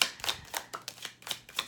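Tarot cards being shuffled, a quick run of soft papery riffles and flicks close by, about six rhythmic bursts with no talking.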